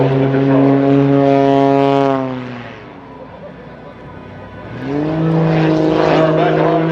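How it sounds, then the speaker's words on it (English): Gary Ward's MX-2 aerobatic airplane performs at the Shaw Air Expo, its propeller engine roaring loud and near, dropping in pitch as power comes off, then surging back up as it flies again. "Power back on the airplane start flying."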